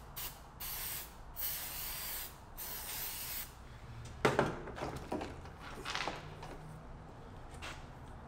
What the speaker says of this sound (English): Now what I like to do is put a little fluid film